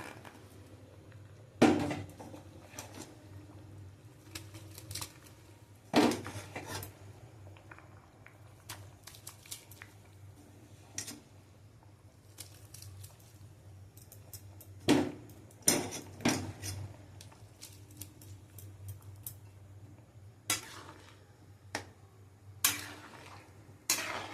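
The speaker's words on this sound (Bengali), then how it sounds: "এবার আমি ডালিয়াটাকে এর মধ্যে দিয়ে দেবো" Broken wheat (dalia) being added to cooked, softened lentils in a pot: a quiet bubbling base with repeated sharp clinks and scrapes of a utensil against the pot, spaced irregularly across the stretch, no talk.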